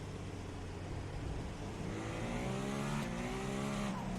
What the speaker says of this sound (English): Listening to that engine spool up, the Acura has an engine initially slated to fit into an Indy car. It's a free revving engine.